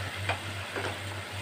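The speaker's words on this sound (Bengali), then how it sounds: "টমেটো দিয়ে মশলাগুলো আমি একটু আগে ভালো করে কষিয়ে নিই।" Tomato, onion, ginger, garlic and spices sautéing in a pan for potol (pointed gourd) korma, a soft steady sizzle with faint stirring scrapes around a low hum, no talk.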